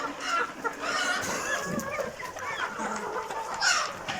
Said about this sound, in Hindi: ये तमाम देसी मुर्गी है